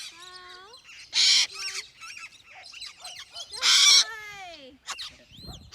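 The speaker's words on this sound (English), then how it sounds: "It's like too many birds." Cockatoos and parrots call in a burst of squawks, whistling screeches and harsh shrieks, close and loud, with two especially piercing screams among the chatter and faint voices nearby.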